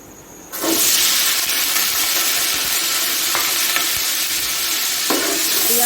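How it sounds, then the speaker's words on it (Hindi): Onions dropped into hot oil for beef pulao, a sudden loud sizzle that continues as a steady hiss with occasional stirring scrapes, close and alone. "और अब डालूंगी प्याज।"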